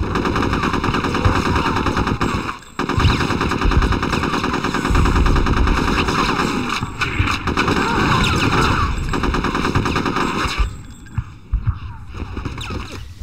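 Sustained rapid machine-gun fire rattles through the war level of Conker's Bad Fur Day, loud and relentless, dense bursts continuing almost without pause over a droning background before briefly thinning near the end.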